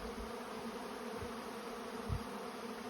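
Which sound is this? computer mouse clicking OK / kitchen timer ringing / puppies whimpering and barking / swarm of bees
swarm of bees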